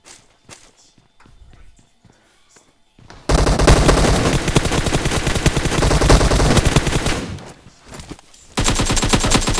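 Rapid automatic gunfire in a video game squad fight, loud sustained bursts of close shots after a quieter stretch of footsteps and movement, with a brief pause before firing resumes.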